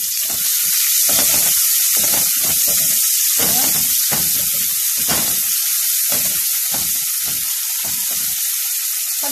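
Small onion frying in a little oil in a pan, a loud continuous sizzle with bursts of crackling and occasional stirring.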